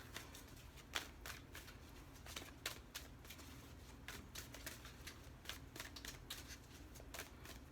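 A deck of cards being shuffled by hand: quiet, irregular riffling snaps and soft slaps in quick bursts, close and faint, with no talking.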